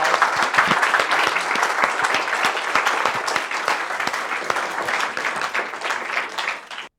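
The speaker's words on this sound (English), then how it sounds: "Let's give Professor Schiebinger another round of applause." A lecture audience applauds Professor Londa Schiebinger after her talk on gendered innovations, a dense, steady wash of many hands clapping for about seven seconds before cutting off abruptly.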